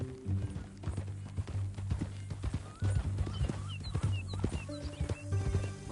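Horse hooves clip-clopping in Red Dead Redemption 2, a steady trotting rhythm up close with a whinny, faint game ambience and bird calls around it.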